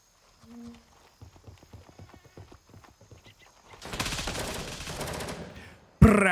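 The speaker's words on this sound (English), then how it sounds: "That's still the same SIG. Yeah, that thing like sounds like thunder." A SIG rifle fires in the video game Gray Zone Warfare, a rapid burst of sharp cracks at close range after brief talk, followed by a loud sustained rumbling volley and a final abrupt blast.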